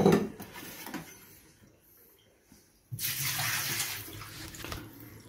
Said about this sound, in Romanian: după care umplem din nou rezervorul cu apă